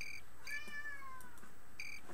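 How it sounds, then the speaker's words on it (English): A cat meows several times in short, rising and falling calls, fairly close and clear, over a quiet background hum. "My cat's acting up"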